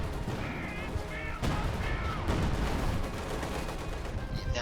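Long-range artillery firing in Company of Heroes 2 amid a busy battlefield, dense layered booms and crackling gunfire with sharp blasts standing out, a constant loud wash of combat noise throughout.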